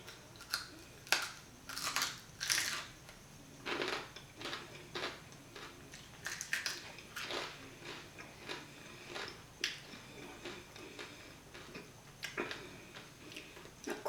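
Crispy roast pork shoulder skin is bitten and chewed up close, sharp crunchy cracks arriving in irregular bursts over a quiet background, with no talking.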